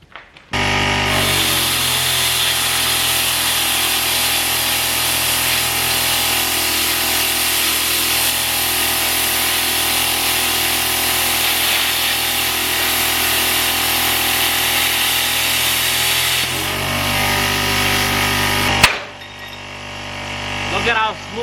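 Chicago Electric 20A plasma cutter slicing through 1/8 inch thick metal, a loud, continuous hiss and roar holding steady for about sixteen seconds before cutting off, followed by brief clatter and quiet.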